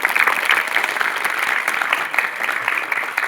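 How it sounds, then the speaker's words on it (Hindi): Loud, sustained applause from a crowd at a government school ceremony in Bharmad, where SBI presented bicycles to girl students. The clapping forms a thick, continuous wash throughout. "इसके लिए जोरदार तालियां।"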